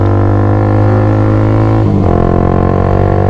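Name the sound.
Honda CBR150 motorcycle revving with GP1 aftermarket exhaust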